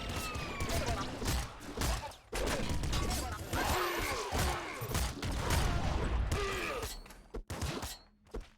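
Gunfire in a video game, including sniper shots, comes as repeated loud cracks and bursts over dense game noise, with someone talking and groaning over it.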